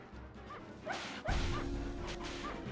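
Dogs in a video game, a few short, high yips and barks against a busy game soundscape, followed by a heavy crash and a steady rumbling bed, all at modest volume.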